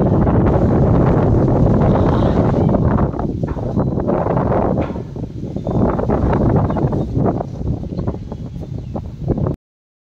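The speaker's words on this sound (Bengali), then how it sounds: "দারুণ হাওয়া দিচ্ছে।" Strong wind roars and buffets the microphone continuously, loud and unbroken, dipping slightly midway before cutting off abruptly near the end.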